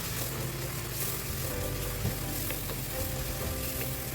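Onion paste and garlic frying in hot oil while being stirred, making a steady, dense sizzle that stays loud and close throughout with no voices.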